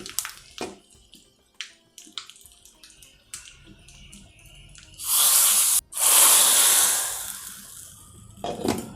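A teaspoon of ghee tempering with a quarter spoon of mustard seeds and a small pinch of asafoetida hisses and sizzles loudly in two close bursts between quieter kitchen clatter; nobody speaks.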